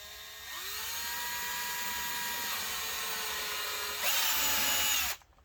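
A drill bores into hard rosewood with a steady high-pitched whine that rises in pitch and loudness near the end before cutting off abruptly, heard close with no talking.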